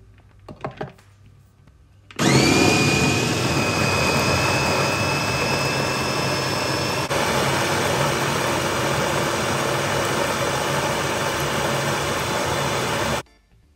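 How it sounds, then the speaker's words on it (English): A food processor chops Caribbean blended seasoning ingredients, starting after a few handling knocks with a loud, steady whirring motor roar that runs for about eleven seconds before cutting off abruptly. "I'm adding the rest of the ingredients, and then we're gonna go in for another chop"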